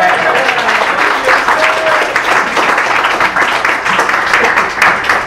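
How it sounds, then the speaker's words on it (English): A crowd at a Bay Area engineering alumni event gives steady applause, a dense wash of hand clapping that carries on throughout. "Give a round of applause."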